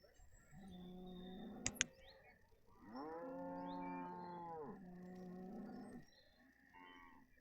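Cattle in the city-builder Banished moo several times in a row, long resonant calls overlapping one another, preceded by a quick pair of clicks, moderate in level with no speech.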